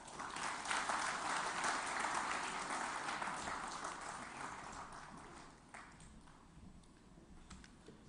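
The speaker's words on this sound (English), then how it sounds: "we welcome you to the podium with a vibrant sound of claps" Applause from a crowded audience at a plastics industry promotional event in a hotel ballroom, dense and loud at first, then thinning out and fading as the clapping winds down.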